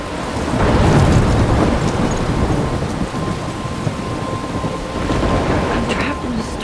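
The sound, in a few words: thunderstorm in the video game Life is Strange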